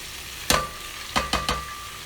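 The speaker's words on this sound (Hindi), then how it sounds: "हमने ये डेगची में थोड़ा सा ऑयल लिया है और फिर हमने ये प्याज उठा के डेगची में डाल दिए हैं" Onions frying in a little oil in a degchi cooking pot give a soft, steady sizzle, broken by a few sharp scraping stirs.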